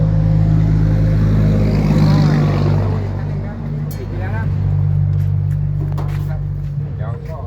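A three-cylinder four-wheel tractor engine fitted with a 1.1-metre rotary tiller, a Ford 6600, idles loudly and steadily nearby with a low throbbing drone.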